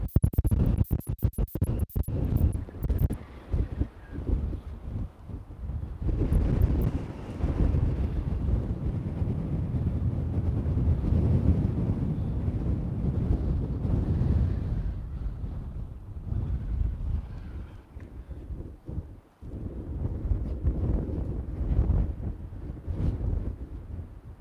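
Strong wind buffets the microphone in loud, rough gusts, with crackling bursts early on and a steady roaring rush throughout.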